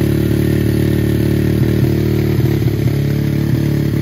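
A dirt bike engine running steadily after an oil seal repair, its close, loud, even idle thrumming with a fast mechanical pulse and a light clatter throughout.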